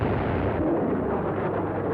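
A German WWII 28 cm railway cannon, known as Leopold, fires a heavy high-explosive shell, heard as a sustained, deep, rumbling roar that fills the clip at high loudness with no distinct onset.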